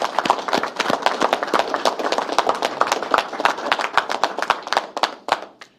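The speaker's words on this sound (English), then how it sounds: "I think that's worth a round of applause." Audience clapping at a press conference held by a government minister, a lively burst of individual hand claps close by, steady for several seconds before tapering off at the end.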